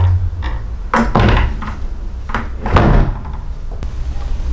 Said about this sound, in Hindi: ये फिटिंग लगाने के बाद एक दरवाजा बंद करते हैं